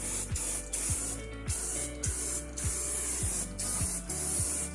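Mega tire cleaner and protectant spraying from a trigger bottle onto a tire in repeated short bursts, about eight close hissing sprays in a steady rhythm, with no talk.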